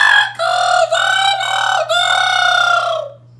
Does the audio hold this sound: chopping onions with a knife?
no